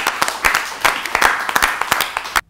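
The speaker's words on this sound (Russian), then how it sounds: "Аплодисменты, Роман, будьте добры." Scattered audience clapping at a guitar battle between a professional and a self-taught player, individual sharp claps standing out in an uneven rhythm before stopping abruptly.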